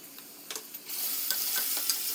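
Sliced onions with ginger masala fry in hot oil for a mushroom curry, giving a steady close sizzle that swells louder partway through, with a few light stirring scrapes.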